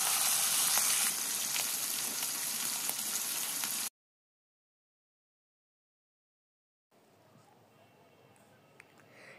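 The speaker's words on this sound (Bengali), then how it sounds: "মাছগুলোকে এরকম লাল লাল করে ভেজে নিতে হবে।" Rohu fish pieces frying in hot oil make a dense, close sizzle that cuts out into silence for a few seconds, then returns much fainter with light crackles.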